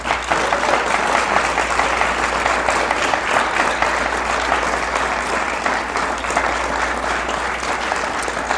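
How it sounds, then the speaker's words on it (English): A room full of people claps steadily and warmly at a community center gathering, the dense applause holding an even level for several seconds without easing off. "if you clap that long, we'll be here for a while"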